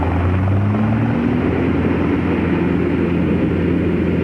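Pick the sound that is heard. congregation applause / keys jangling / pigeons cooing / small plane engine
small plane engine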